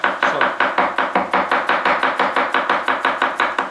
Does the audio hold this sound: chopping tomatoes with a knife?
yes